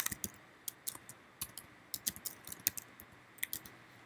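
Rapid, irregular clicks of keys being typed on a computer keyboard, fairly quiet and close, with short pauses between bursts and no voices.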